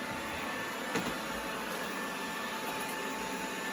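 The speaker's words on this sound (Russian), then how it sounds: "Вот, все, пылесос выехал." A NEATSVOR X500 3-in-1 robot vacuum cleaner with a wet-mop function drives across the floor, giving off a steady, even whirring hiss of motor and brushes with one faint bump, and nobody speaks.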